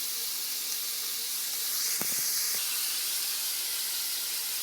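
Onion and zucchini fry in a pan, giving a constant close hiss and sizzle with a couple of brief clinks partway through; no one speaks.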